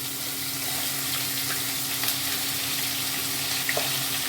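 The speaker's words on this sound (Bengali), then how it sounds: "এখন আমি ফুলকপিগুলো এক এক করে ভেজে নিচ্ছি" Steady, dense sizzling of cauliflower frying in hot oil with turmeric, continuous and close, with a few faint clicks and a low hum underneath.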